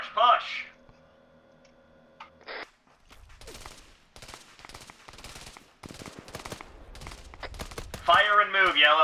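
Squad gunfire in a video game drone operation: rapid bursts of shots crackle in uneven clusters through the middle, with an electronic tone early on and voices speaking at the start and end.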